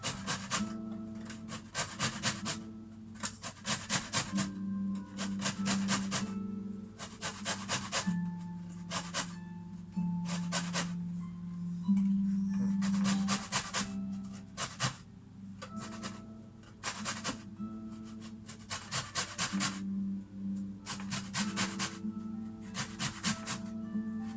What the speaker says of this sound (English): I need to grate a bit of lemon zest